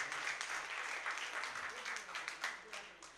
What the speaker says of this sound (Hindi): मैं चाहता हूँ कि इन तमाम शख्सियात के लिए हम एक ज़ोरदार ताली से इनका इस्तकबाल करें